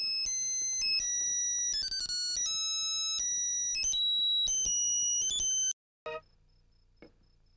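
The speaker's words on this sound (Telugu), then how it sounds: "సార్, డార్లింగ్ గారు ఫోన్." A phone ringtone plays a bright, beeping electronic melody loudly for several seconds. It then cuts off abruptly, leaving near silence with a couple of faint clicks.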